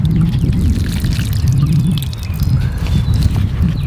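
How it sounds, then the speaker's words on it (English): Water is poured steadily onto potted fig cuttings in containers, making a continuous splashing, gurgling wash close to the microphone for the whole stretch with no talking. "Another thing that I like to do is immediately water them."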